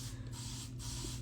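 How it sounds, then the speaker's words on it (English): A spray bottle mists curly hair during a wash-and-go styling routine with curl-enhancing gel, giving two close, steady hissing bursts of about half a second each. "I'm just gonna spray this a little bit more with my"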